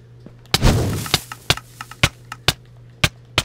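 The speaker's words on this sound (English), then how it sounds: "The outer ring is now detonating." An outer ring of TNT detonates in Minecraft: one big blast with a rumbling tail, then a string of sharp, separate booms at irregular intervals, loud and close.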